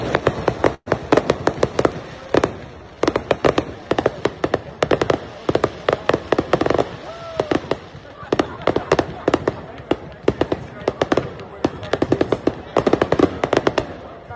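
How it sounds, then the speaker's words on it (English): An outdoor fireworks show after a UFC event, with loud sharp bangs and crackling bursts going off in quick irregular volleys over the whole stretch, heard from nearby with crowd noise underneath. "We had a little fireworks show after the event, which was pretty amazing."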